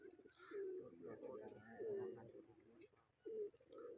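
Pigeons cooing in soft, repeated throaty phrases, close by and moderately loud, with a short pause before the last coo.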